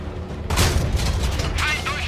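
A tank cannon fires in the console version of World of Tanks: one sudden heavy blast followed by a rumbling boom, loud and near, with a voice talking faintly alongside.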